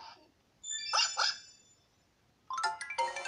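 A virtual puppy in Nintendogs + Cats gives two quick high yips, then after a short pause a burst of several more excited yaps, close and clear with no talking.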